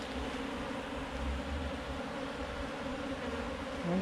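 Wild bees buzzing steadily at a hive built inside a tire, a close, continuous insect drone holding for several seconds with no voices.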